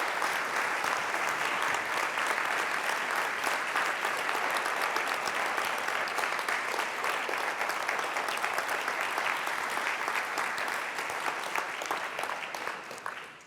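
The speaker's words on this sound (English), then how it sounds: "let's give Annie and everyone who's worked on a round of applause" A church congregation gives a long, steady round of applause, many hands clapping evenly for over ten seconds before it tapers off abruptly at the end.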